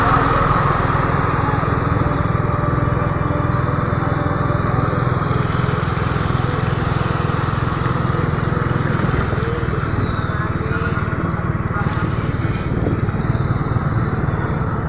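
A generator engine drones steadily and loudly throughout, amid typhoon damage in Kabankalan City, with a continuous mechanical hum and faint voices in the background.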